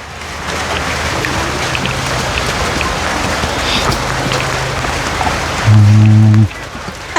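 Steady rain falling outdoors, a continuous close hiss that fills the scene without pause, with a brief low rumble near the end.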